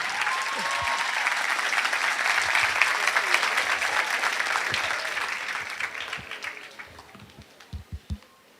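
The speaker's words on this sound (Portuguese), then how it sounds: "E recebamos agora com muito carinho a salva de palmas do Dr. Rodrigo Silva." Steady applause from a crowd welcoming a speaker, dense and sustained, then thinning into scattered individual claps before fading out.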